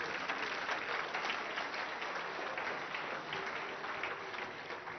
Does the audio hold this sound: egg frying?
no